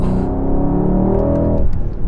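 A 2021 Mercedes-AMG GLE 63S 4MATIC+ SUV engine revs and pulls with a rising, harmonic drone, loud and close, as the vehicle accelerates after a manual downshift.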